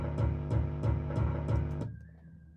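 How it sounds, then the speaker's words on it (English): Default Logic drum kit run through clip distortion for a pre-chorus drum part; punchy, heavily saturated kicks and snares in a steady groove, loud and close, cutting off to a faint tone near the end. "Obviously that's all the clip distortion doing it,"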